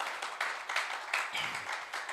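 A church congregation claps during a service, with uneven bursts of applause that swell and ease in waves at moderate distance.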